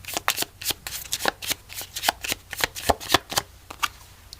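Tarot cards being shuffled by hand, a close, crisp series of rhythmic riffling snaps and flutters, alone and without any speech.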